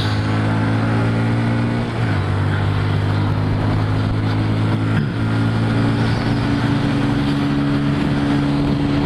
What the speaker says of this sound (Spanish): es una moto que viaja a 100 kilómetros por hora de velocidad promedio